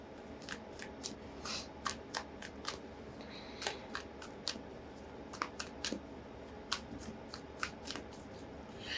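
Repeated crisp riffling and snapping of tarot cards being shuffled, close up, in short irregular bursts over a steady low background hum.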